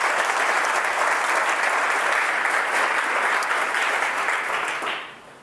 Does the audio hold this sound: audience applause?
yes